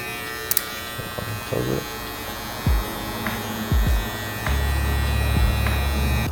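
Electric hair clippers fitted with a 1.5 guard buzz steadily while cutting a client's dense hair at the back, a close, continuous motorized drone with small shifts in pitch as they move; a voice briefly speaks over it.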